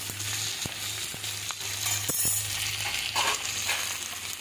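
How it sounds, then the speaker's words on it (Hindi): Ivy gourd (kundru) sabzi stirred in a pan: continuous frying sizzle with occasional light clinks of the spoon against the pan, close and steady throughout, without speech. "इसको मैं थोड़ी देर चलाऊंगी और नरम होने के लिए थोड़ी देर ढक कर छोड़ दूंगी।"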